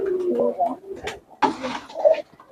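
Pigeons kept in a rooftop loft coo in soft, repeated bursts, close by, mixed with rustling and someone talking throughout.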